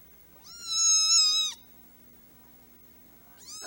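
A kitten meows loudly and close up in one long, drawn-out cry while kittens play under their mother's watch, and a second meow begins just as the sound cuts off.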